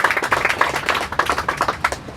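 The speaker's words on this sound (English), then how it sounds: "Let's give them a round of applause." An outdoor audience at a bike share launch event claps for city public works employees, a brisk patter of individual hand claps from a modest group, close and uneven, with no voices over it.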